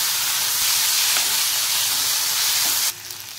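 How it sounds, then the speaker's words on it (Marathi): Finely chopped potatoes and onion sauté in a hot pan: a loud, steady, close sizzle and hiss that cuts off sharply near the end. "त्याच्यात आपण बारीक चिरलेले बटाटे घालायचे। बटाटे सुद्धा छान असे मिनिटभर परतून घ्या।"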